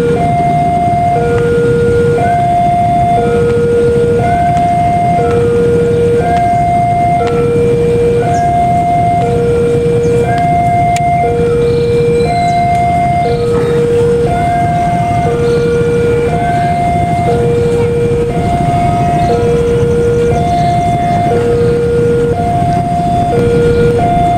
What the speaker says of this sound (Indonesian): Nah itu keretanya sudah kelihatan teman-teman